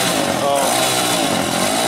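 A motorcycle engine with a stuck throttle roars at sustained high revs, loud, harsh and close for the whole moment, with no break in the engine note.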